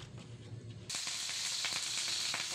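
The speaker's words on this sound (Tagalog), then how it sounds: "painit na natin ang ating kawali para tostahin natin ang ating liempo" Pork belly (liempo) frying in a hot pan, with a steady close hiss and sizzle starting abruptly and continuing loudly with small crackling pops, no talking.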